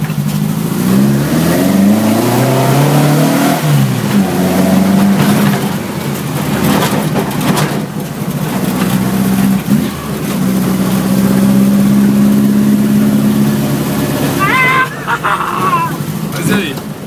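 A Volkswagen Beetle engine revs and accelerates with a turbo-like whine while the car is driven, the engine note rising and falling under ongoing conversation inside the car.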